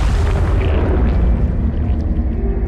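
An explosion in the Conan video game makes a dense, heavy rumbling roar with a strong low-end boom that stays loud and sustained for a couple of seconds.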